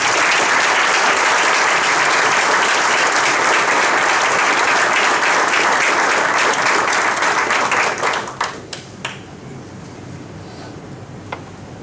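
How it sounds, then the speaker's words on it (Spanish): Sustained audience applause at an Argentine foreign-policy presentation, a dense roar of many hands filling the room for about eight seconds, then tapering into a few scattered claps. "para ellos solicito un aplauso"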